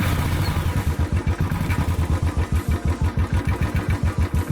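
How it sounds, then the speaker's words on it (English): A Royal Enfield Bullet 500 motorcycle with an idling problem runs close by, its single-cylinder engine thumping in a steady, rapid, even beat at idle. "starting the engine."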